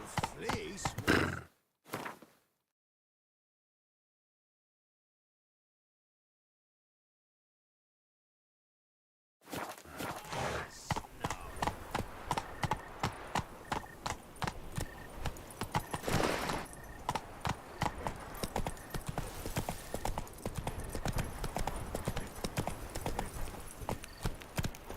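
Roach the horse galloping in The Witcher 3, with a rapid, steady clip-clop of hooves filling the second half after a short burst of sound and a long silence, a voice talking over the hoofbeats.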